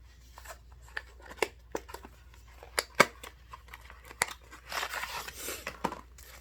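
Cardboard box of a Coms tripod selfie stick being torn open by hand, with sharp ripping and snapping bursts and rustling scattered over several seconds, close and fairly quiet, no talking.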